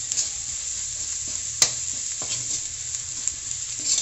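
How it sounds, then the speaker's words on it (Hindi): Gram flour (besan) roasting in oil in a pan, a steady soft sizzle with a few sharp scrape and tap sounds of the spoon stirring, close and fairly quiet. "बेसन को हमें बहुत अच्छे तरीके से भूनना है"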